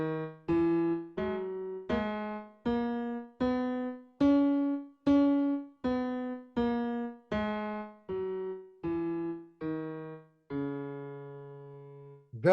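A piano plays a slow E Phrygian mode scale of single notes, rising then falling back down, each note struck evenly and left to ring, ending on a long held low note.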